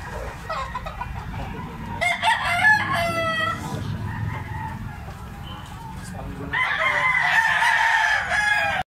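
Kelso bloodline stag rooster crowing, two loud nearby cock-a-doodle-doo calls separated by a few seconds, with clucking and farmyard background.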